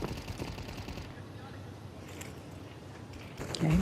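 Gunfire in a Counter-Strike match between Ninjas in Pyjamas and M8, bursts of rapid shots and game effects layered under a commentator's continuous talk, with a louder burst near the end.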